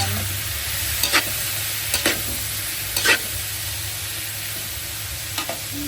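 Pork liver frying in a pan gives a loud, steady, close sizzle, with a few short scraping stirs breaking in at intervals and no voices.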